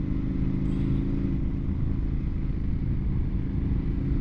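A dual-sport motorcycle rides a dirt road through a very small desert town, its engine a steady, loud, continuous drone with low rumbling throughout and no speech.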